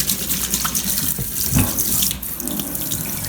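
Water runs steadily from a faucet into a sink while a redfish fillet is rinsed, a close, loud, continuous splashing hiss with no voices.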